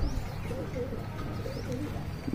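Soft, low pigeon cooing repeats in a few gentle phrases, fairly close, over a faint background hiss.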